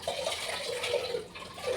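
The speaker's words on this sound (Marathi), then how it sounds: "तांदूळ धुवायला घेतले" Rice being rinsed in water in a home kitchen, a soft continuous swishing and sloshing of liquid, fairly faint and close, with no speech.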